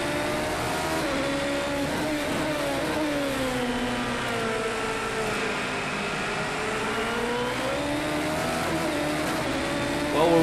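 A future Formula/Indy-style race car engine in the video game Project CARS 2 drones and rises through the gears in a loud, continuous whine that holds for the whole stretch.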